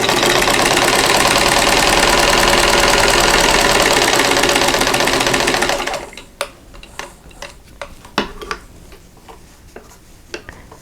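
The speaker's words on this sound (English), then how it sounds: "we're going to sew on both sides of that diagonal line." A sewing machine stitching a straw flower quilt block runs at a fast, steady, loud whirring clatter for about six seconds, then stops, leaving scattered clicks and handling taps.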